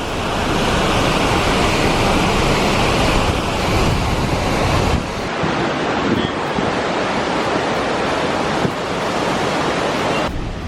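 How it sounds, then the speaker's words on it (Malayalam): Attukad waterfall near Marayoor roars as a loud, steady wall of rushing water, continuous and close, with no voices over it. "ഇവിടുന്ന് ലെഫ്റ്റും റൈറ്റും ഒക്കെ ചന്നമ്പിൻ്റെ വെള്ളംചാട്ടമാണ്"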